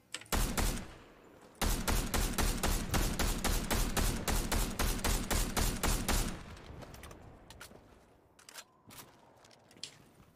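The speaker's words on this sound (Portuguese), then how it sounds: "Tem tiro pra lá, tem tiro na frente." Video game gunfire during a live stream: a dense, rapid automatic burst of close, loud shots lasting several seconds, then scattered fainter shots and clicks. No one talks over it.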